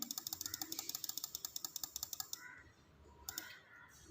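Rapid keystrokes on a computer keyboard click in a fast, even burst, then slow to a few scattered taps, all quiet and close.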